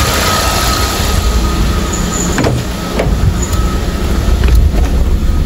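A car engine idling at raised revs after a servo replacement, a steady loud rumble heard close up with a constant whine and a few brief clicks, no voices.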